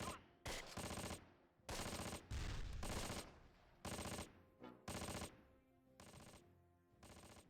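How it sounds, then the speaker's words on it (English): Bursts of gunfire in the WWII tactics game Close Combat: Wacht Am Rhein, set in the South Eifel, come as repeated loud clusters of automatic fire with short gaps between volleys. "Keep them pinned, keep shooting them"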